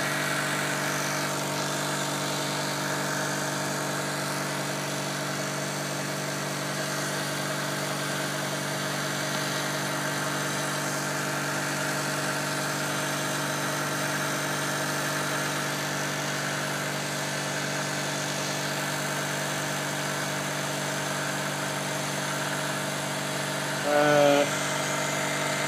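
An electric motor driving an HHO alternator runs steadily with a constant tonal whine and hum, unchanging and fairly loud throughout, with a brief small knock near the end.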